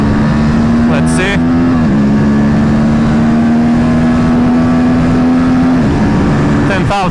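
An Aprilia RS 457 motorcycle engine revving hard at high RPM while riding, a loud sustained drone that holds steady, briefly dips and rises again amid strong wind noise.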